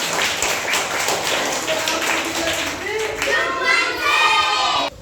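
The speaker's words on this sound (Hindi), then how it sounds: "शाबाश, ताली बजाइए जोरदार।" Children clap together in a classroom during a Hindi-language lesson. The clapping is steady and close for about five seconds, with young voices talking over it before it stops abruptly.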